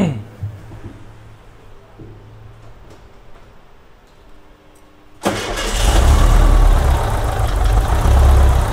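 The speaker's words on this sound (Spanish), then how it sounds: "vamos a pedirle aquí al dueño que nos haga favor de pues darle la primera encendida, a ver qué tal queda." A rebuilt Volkswagen Beetle engine cranks and fires up abruptly partway through, then settles into a loud, steady idle close by after a quieter stretch with faint background noise.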